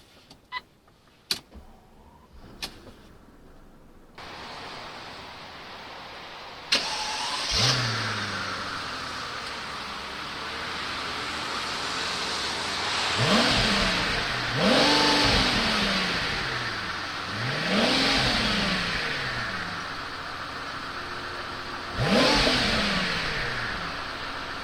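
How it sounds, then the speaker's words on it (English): Maybach 57 with a V12 engine on a test drive: a few clicks and a door thud, then a smooth, quiet engine note that swells and falls in several gentle acceleration surges, heard from inside the car. "So let's have a test drive in this very nice Maybach 57."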